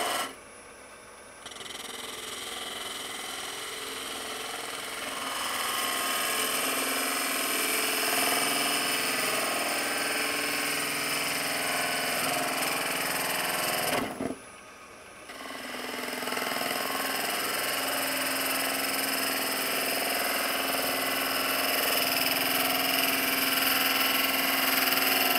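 Wood lathe turning a wooden funnel with a bowl gouge, a steady whirring hum with a broad scraping hiss of cutting, briefly stopping mid-way before resuming, close and without talk.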